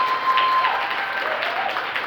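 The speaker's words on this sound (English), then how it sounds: "Can we actually just get like a round of applause for the staff and organizers?" Audience applause for staff and organizers at a leadership academy keynote, a steady, moderately faint wash of clapping lasting about two seconds, with a faint tone underneath.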